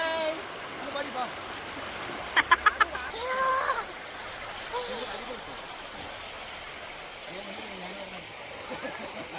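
River water at Ponmudi rushes steadily throughout, with a brief burst of sharp splashing knocks near the start and faint voices mixed in.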